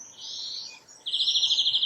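Bird chirping and trilling close by during an indoor yoga flow, a bright sustained warble followed by a rapid, evenly pulsed trill of chirps, with no talking.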